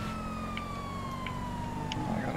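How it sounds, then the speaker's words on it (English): Police sirens wail steadily in the video game GTA Online. The smooth, sustained tones glide slowly downward and sound fairly near and constant, with no speech. "I can hear the sirens"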